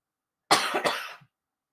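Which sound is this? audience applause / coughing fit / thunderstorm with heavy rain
coughing fit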